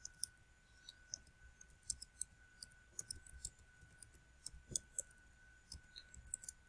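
Keyboard keys click in irregular bursts while someone types a document, soft close taps scattered over a faint steady hum.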